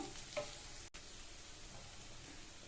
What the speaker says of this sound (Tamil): அடுத்து இதுல 6 பூண்டை 1-2 இடிச்சு வச்சிருக்கேன். அதை சேர்த்துக்கலாம்.